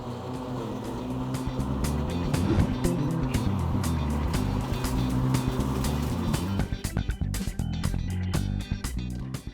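A RYOBI ride-on tractor-style lawn mower runs with its blades engaged, giving a steady, loud motor drone with a continuous whirring hum throughout, close by and without speech.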